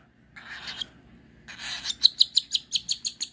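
Cinnamon pearl whiteface cockatiel chirping up close: two scratchy bursts, then a quick, rhythmic run of about eight sharp, bright chirps, alone without talk.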